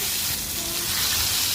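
Carp pieces frying in hot oil in a pan, a steady dense sizzle and crackle filling the whole moment, fairly loud and close with no voices.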